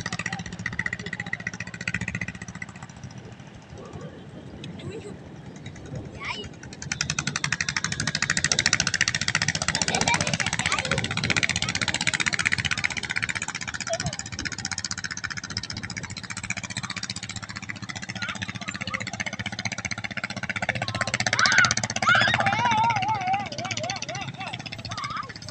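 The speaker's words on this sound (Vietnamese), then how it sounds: "cái ghe nhỏ chạy rất là lẹ luôn các bạn" A small boat engine runs fast on a river in Vietnam's western delta, a steady loud drone rising after a few seconds and holding, with a voice talking over it throughout.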